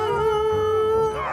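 Sled dogs howl in a sustained, wavering chorus before being harnessed in Denali National Park, loud and close, several voices overlapping without pause.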